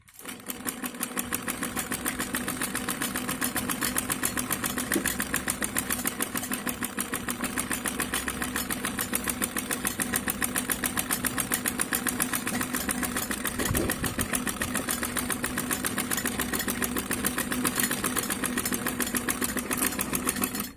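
Electric sewing machine running steadily while stitching a kameez seam, a continuous rapid mechanical whir with fast needle chatter, close and even for about twenty seconds with no talk.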